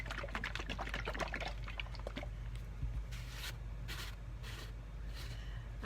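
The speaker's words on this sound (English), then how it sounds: "I always use a damp, not wet sponge to clean off ware before I start glazing" A damp sponge wiping unglazed pottery ware before glazing makes soft, close rubbing and squishy strokes, quick at first and then slower with longer swipes.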